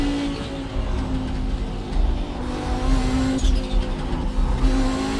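Racing car engine drones steadily in a driving game played on a Qubic 2.5DOF motion simulator with front actuators, with a faint tire hiss and slight revving swells throughout, loud and continuous with no talk.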